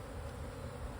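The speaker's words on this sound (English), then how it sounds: "These bees look pretty mad. I don't know if you can see how much they're flying all over me." Honeybees swarming and flying around an opened hive while a second brood box is added, a steady low buzzing drone filling the space close by without pause.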